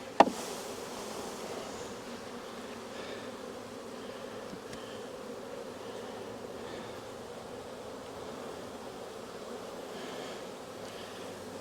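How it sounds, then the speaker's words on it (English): Honey bees shaken into a hive box for a cell builder colony give off a steady, dense buzzing drone that holds evenly throughout, with a brief knock at the start. "here's some more of them bees in there. I'm going to shake them in."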